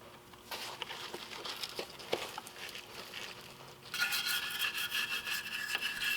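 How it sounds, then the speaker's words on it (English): A wire brush scrubs the mounting surfaces on a Lexus GX 470 during a lift kit install, making a soft, steady scratchy rubbing that grows louder and harsher in the last couple of seconds. "Always be sure to clean your mounting surfaces. I use a wire brush."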